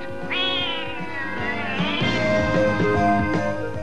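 A cat meows loudly in a 1983 BBC Christmas TV promo, a long rising and falling wail followed by further drawn-out calls, layered over music.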